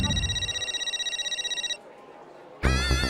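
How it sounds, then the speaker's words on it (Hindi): A telephone rings with a bright electronic trill, pulsing rapidly for about two seconds before a pause; a voice then comes in over a brief tone. "अरे बाप रे, माधवी का फोन, ये क्यों फोन कर रही है?"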